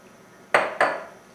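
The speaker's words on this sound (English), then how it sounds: "And then we're going to give that a nice stir." A spoon clanks twice against a bowl while a cream cheese mixture is stirred, two short close scraping knocks fading out in a quiet room.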